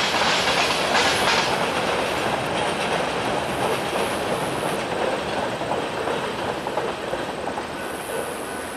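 A freight grain train rolls past on the Ann Arbor Railroad near Toledo, with a loud, continuous rumble, rail clatter and faint wheel squeal holding steady for several seconds.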